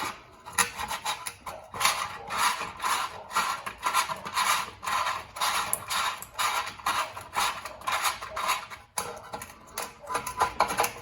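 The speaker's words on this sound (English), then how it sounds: "as I'm laying it back down, I'm gonna turn it in the direction that would wind it up." A small engine recoil starter spring is wound back into its housing by hand, giving a series of repeated scraping, rubbing strokes of metal on plastic in an uneven rhythm, close and fairly quiet.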